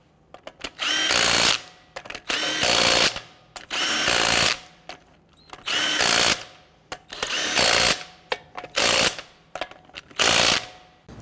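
Lug nuts on a 2007-2014 Cadillac Escalade wheel are driven down with a power tool in loud repeated bursts, roughly seven whirring runs separated by short pauses and light clicks, close and without talk.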